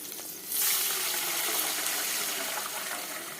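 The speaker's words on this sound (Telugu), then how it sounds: "ఇప్పుడు వాటర్ పోసుకుందాం" Water is poured into a pan holding a fried dal tempering. A sudden rushing gush starts after a brief quiet moment, then stays as a steady, fairly loud hiss until the end.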